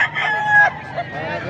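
A rooster crows at a poultry sale, a yellow-legged bird about nine months old, with a harmonic call held for about a second and a shorter second call following, close by over faint background chatter.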